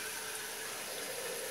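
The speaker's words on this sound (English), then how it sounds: "And I'm gonna fill it the rest of the way with water." Tap water pours steadily into an Instant Pot being filled for birria consommé, a faint, even hiss of running water lasting a moment with no voices.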